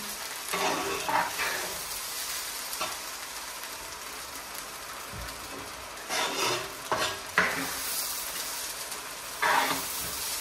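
Curry being stirred into spices in a pot for Bengali Sylheti meat pilau rice, with steady frying sizzle and intermittent scraping and clinking of a spoon against the pan, close and moderately loud.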